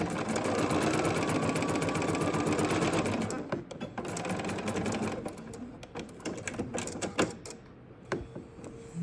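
A sewing machine runs steadily, stitching a quilt block seam at a short 1.5 stitch setting with a back tuck, whirring continuously up close before slowing into short, irregular bursts.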